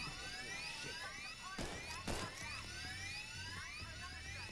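A heist drill runs steadily in Payday 3, a continuous buzzing whine with game effects and two sharp crashing bursts partway through, no talk.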